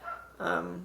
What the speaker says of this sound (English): our neighbor's dog. It's a good dog.